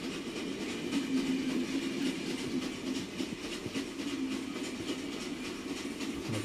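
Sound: train running in the video game The Final Station

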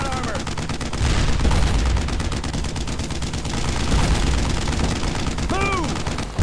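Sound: gunfire on a tank in Brothers in Arms video game

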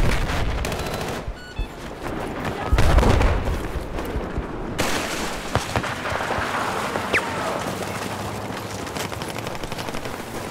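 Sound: machine gun fire in the video game Battlefield 4

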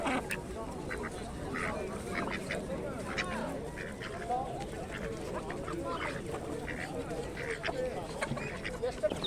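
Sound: Indian runner ducks quacking at animal market

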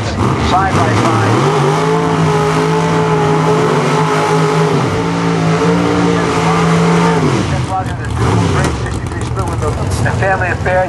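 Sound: two Corvettes drag racing side by side

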